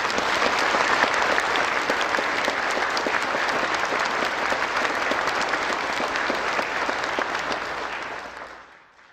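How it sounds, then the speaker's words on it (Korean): A large audience at a national prayer breakfast in Korea gives a sustained, loud round of applause for the president, dense clapping that holds steady for about eight seconds before fading out. "우리 다시 한번 뜨거운 박수를 드리겠습니다."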